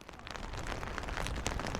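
Rain falls steadily at Lake Titicaca in Bolivia, a dense close patter on surfaces that holds at an even level for a short stretch.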